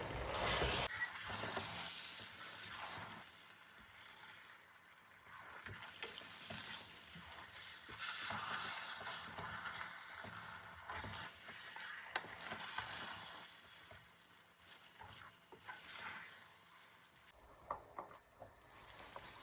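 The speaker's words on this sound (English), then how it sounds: "Let's give that a good stir." Egusi and bitter leaf soup stirred in a pot, a soft continuous scraping and bubbling sizzle with occasional spoon knocks, close and fairly quiet throughout.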